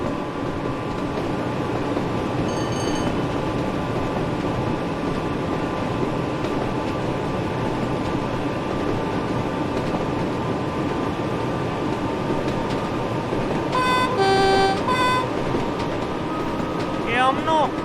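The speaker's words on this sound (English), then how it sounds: "them rail joint sounds are very nice on that." BR Class 86 electric locomotive hauling Mk2f coaches in the Train Sim World 6 game, giving a steady rolling rumble with faint rhythmic rail-joint clicks and a brief burst of tones near the end.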